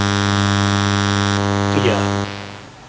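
Steady buzzing drone of a 2.4 GHz DECT cordless phone signal made audible, harsh and continuous with evenly stacked tones, then dropping into a noisier hiss near the end.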